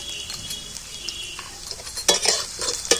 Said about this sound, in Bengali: রসুন কুচিগুলো তেলের মধ্যে ভালো করে নাড়াচাড়া করে ভেজে নেব